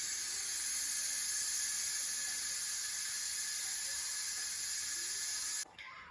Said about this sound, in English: we're gonna go ahead and let the steam release